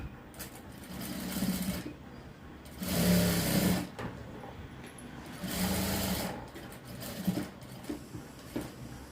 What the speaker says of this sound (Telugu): చూసుకొని ఈ విధంగా కుట్టు అయితే వేసేసుకోవాలి.